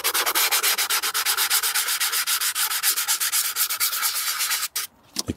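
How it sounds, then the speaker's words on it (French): Sandpaper is worked back and forth over a garden tool blade to scrub off buildup, giving rapid, rhythmic, close-up rasping strokes that hold steady before stopping abruptly near the end. "du papier à poncer. Et puis on vient retirer, nettoyer toutes ces incrustations qu'il y a dans la lame"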